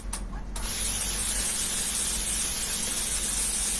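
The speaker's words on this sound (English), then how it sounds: "Just spraying down the apartment there" Aerosol spray hissing steadily around an apartment room, starting after a short pause and continuing as one loud, close, unbroken burst to the end.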